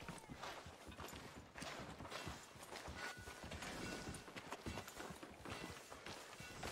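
Horse hooves clip-clop on a street in Red Dead Redemption 2, a steady walking rhythm of close, moderate hoofbeats with faint background ambience.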